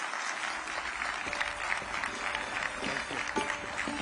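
An audience claps steadily for the Qualcomm CEO, with a faint tone and some background murmur mixed under the dense applause.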